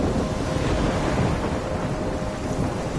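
Storm in the Life is Strange video game: a steady, loud roar of wind and crashing waves with rumbling low thunder and rain, constant and dense with no voices.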